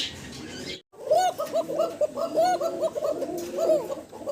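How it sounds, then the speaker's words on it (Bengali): A male pigeon for sale coos close up in repeated, throaty rolling phrases, rising and falling in a steady rhythm after a brief silent gap at the start. "ককার ডাক শোনেন দর্শক চমৎকার ডাকাটাই করে"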